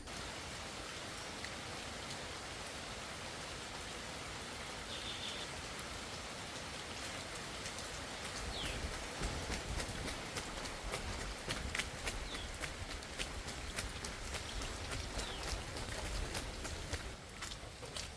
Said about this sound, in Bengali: বৃষ্টি চলে আসছে